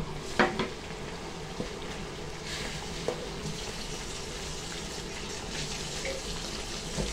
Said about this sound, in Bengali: এটার একটু ভালোভাবে কষায় নিব।